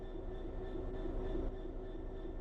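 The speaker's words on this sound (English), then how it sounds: "Let's get the train moving and see it all working." A train in the video game Train Sim World 3 begins to move, giving a steady low rumble with a faint tonal whine held throughout, even in level and heard alone without talk.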